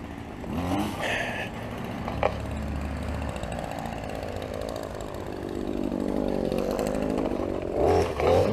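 A gas string trimmer edges a residential lawn, its steady high engine whine running continuously up close and swelling louder toward the end.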